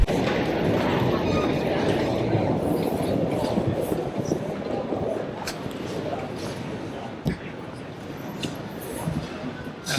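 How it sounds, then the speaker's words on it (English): A train rumbles through a station in Oslo in a steady, dense roar with rattling clatter, a sharp clank near the end, and background voices mixed in. "Now this is a train station."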